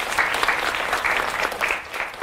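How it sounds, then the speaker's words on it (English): Audience applause at a tech bootcamp info session, a steady dense clatter of many hands clapping indoors, sustained for a couple of seconds with slight swells and no voices over it. "Let's give them a round of applause."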